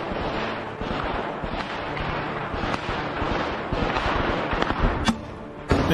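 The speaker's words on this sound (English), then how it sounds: "The commander continues to fire the grenade launcher." A grenade launcher fires in combat, with irregular sharp blasts and bangs over a dense, noisy battlefield background, near and loud, with no talking.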